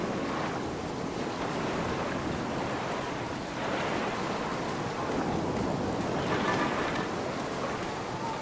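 Ocean waves crash far below a mist-shrouded cliff in an occult puzzle game. A steady, broadband roar of surf holds throughout, swelling gently at about 3.5 and 6 seconds, with no voices over it.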